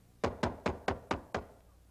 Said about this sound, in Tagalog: May kumakatok!